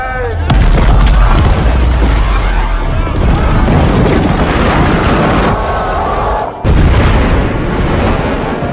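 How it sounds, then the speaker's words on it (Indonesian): Explosive blast tearing through a mountain during an excavation, a loud sustained rumbling boom lasting several seconds with a brief break before more roaring debris noise. "para pekerja sepakat untuk meledakkan gunung tersebut"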